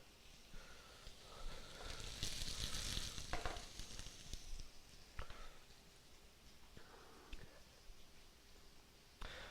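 Potatoes for a hash fry in a pan with a soft, steady sizzle, broken by a few sharp scraping and clattering spatula knocks, fairly quiet and with no voices.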